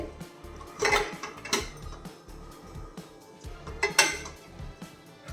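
A metal pot and its lid clank and rattle while being set up to steam ripe bananas for a sweet dish. Three or four sharp knocks stand out against quieter handling noise, close by and without speech.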